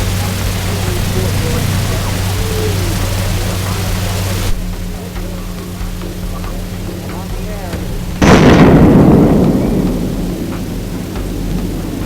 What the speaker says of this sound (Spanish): El estampido de la explosión tardó 40 segundos en alcanzar a los observadores